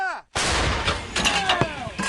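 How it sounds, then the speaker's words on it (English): Artillery cannon firing a single shot near a trench position by Marinka, Ukraine: a sudden loud blast after a brief hush, followed by a long rumbling decay with scattered crackle. "Shot fired."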